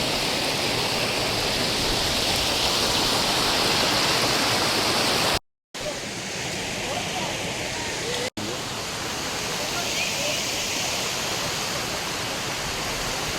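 Waterfalls on Malanggad cast a steady, loud broadband roar of falling water that fills the scene, cutting out briefly partway through before resuming just as strong.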